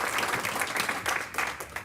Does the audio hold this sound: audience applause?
yes